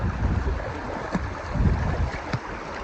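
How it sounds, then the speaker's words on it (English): Strong wind buffets the microphone beside a rocky stream in Hawaii, a steady low roar with gusty swells and a few brief knocks, no talking over it. "It's very windy."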